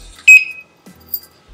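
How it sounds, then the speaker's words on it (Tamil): An anti-theft lock alarm gives a sharp, loud electronic beep, then a quieter second chirp about a second later, in an otherwise quiet room. "2 பீப் சவுண்ட் வந்திருக்கு."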